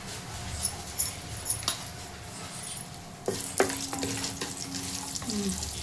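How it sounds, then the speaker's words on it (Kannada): Whole spices frying in a pressure cooker over a low flame, with a soft steady sizzle, occasional clinks and a few sharper crackles partway through, heard alone without talk. "ಲೋ ಫ್ಲೇಮಲ್ಲಿ ಘಮ ಘಮ ಅಂತ ಪರಿಮಳ ಬರಗಂಟ ಫ್ರೈ ಮಾಡೋಣ"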